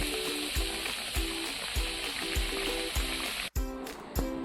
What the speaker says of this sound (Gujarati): ત્યાર પછી એક આવી રીતે બધા આપણે પકોડા તળી લઈએ.